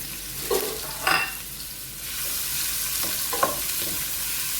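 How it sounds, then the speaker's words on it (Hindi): Onions frying in hot oil with a steady sizzle, with a few short scraping stirs on top. No one talks. "देखिए में हम ऑयल डालते हैं। ये हमारे प्याज हैं, इनको हम लाइट ब्राउन करेंगे।"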